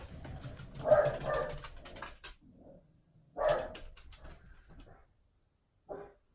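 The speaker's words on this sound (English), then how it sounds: "My dog's barking." A dog barks in three separate bursts, a couple of seconds apart, each a short run of moderately loud barks heard from a little distance in an otherwise quiet room.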